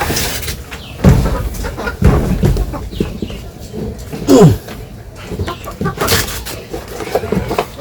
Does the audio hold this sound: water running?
no